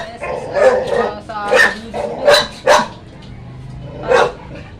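A dog barks several times at irregular intervals, fairly close, with a steady low hum underneath.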